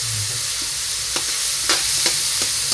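Tomatoes being stirred and fried in a pan for miso, a loud continuous sizzle broken by several sharp scrapes of a utensil, with no talk.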